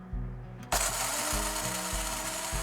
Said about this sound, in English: the biggest part of making coffee is actually grinding the beans